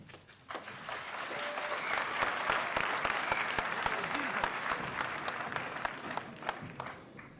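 An audience at a Burkina Faso–Chad oratory debate final breaks into applause, rising clapping with individual sharp claps standing out, swelling through the middle and thinning toward the end, with some voices underneath.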